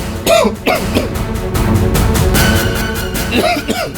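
A few sharp, raspy coughs come in a quick pair near the start, then again at the end, with a steady background murmur in between.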